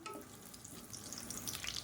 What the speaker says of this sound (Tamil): நல்லா பொரியட்டும்.